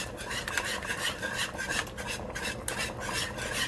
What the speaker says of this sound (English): And I'm gonna keep on stirring.